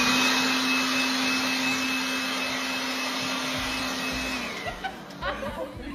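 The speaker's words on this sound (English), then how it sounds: "All right, next up, wind machine. We need to know it can withstand wind." A wind machine blows a steady, loud whooshing roar with a droning motor hum onto hair set with strong-hold hairspray, then cuts off near the end, leaving faint handling sounds.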